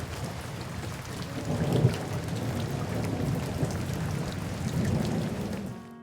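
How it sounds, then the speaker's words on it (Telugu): Heavy rain pours down continuously with deep rolling thunder, a dense close roar that swells with a louder crack near two seconds before easing at the end. "వాన 3 రోజుల నుంచి ఎడతెరిపి లేకుండా కురుస్తోంది"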